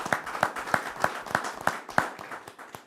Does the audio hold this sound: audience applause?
yes